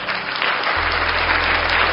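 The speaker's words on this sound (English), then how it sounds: "we give it a round of applause for those single moms that got married with a stepdad or with a single father" A crowd bursts into loud, continuous applause honoring single mothers who married, a thick, even clatter of clapping over a low electrical hum that lasts about two seconds.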